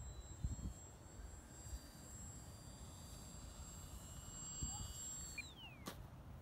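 A small RC foam airplane flies and comes in to land, its faint whining motor holding a steady tone and then dropping away, with light outdoor rumble and a few soft thumps.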